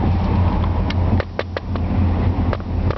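A 1963.5 Ford Galaxie 500XL's built engine, fitted with a performance cam, Edelbrock Performer aluminum heads and intake, idles with a loping, uneven rumble heard close and steady, with a few sharp ticks.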